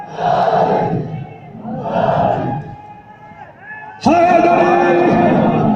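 A crowd at an Urdu religious gathering shouts a slogan in unison, two loud chanted bursts followed by a sustained massed cry, with a lead voice calling between them.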